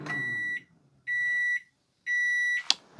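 A secondhand rotisserie oven's timer beeps three times, evenly spaced and loud, each tone about half a second long, followed by a short click.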